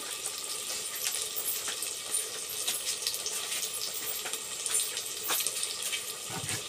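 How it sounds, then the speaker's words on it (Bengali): Water is added to a shrimp curry cooking in a pan, giving a steady close splashing and sizzling wash of noise with small clinks throughout and no voices. "আর একটু জল দিয়ে নিলাম।"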